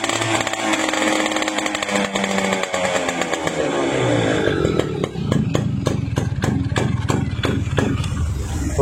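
A Suzuki Max 100 motorcycle engine runs steadily up close, first at a smooth idle, then revved lightly so the buzzing two-stroke note rises and pulses rapidly.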